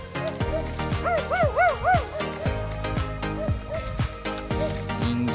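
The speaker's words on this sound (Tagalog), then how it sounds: "Daming aso." Several dogs bark and yip in quick, overlapping bursts nearby, some higher-pitched with whining tones, mixed with a continuous rhythmic clatter.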